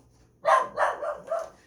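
Three quick barks from a dog nearby in a home kitchen, loud and clear with short pauses between them, no talking.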